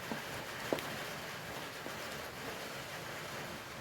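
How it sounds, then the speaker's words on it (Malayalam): Dense, steady hiss of heavy rain falling without pause, a broad wash of noise with a couple of faint knocks and no voices. "ഇവിടെ മഴ പെയ്യുന്നുണ്ട് കേട്ടോ നല്ലോണം"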